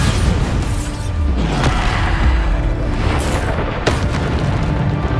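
Bombarda spell explosions in the Hogwarts Legacy video game, a loud booming blast with sharp crackling bursts amid continuous combat noise, several impacts across the span.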